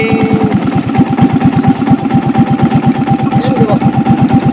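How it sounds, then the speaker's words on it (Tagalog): A motorcycle engine idles close by at sunset, a loud, fast, even pulsing rumble that stays steady and throbbing for several seconds without talking over it. "Yanig ng motor mo ah."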